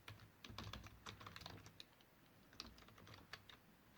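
Steady keyboard typing while JavaScript code is written, quick irregular clicks and key taps running continuously at close range for a few seconds with no talking.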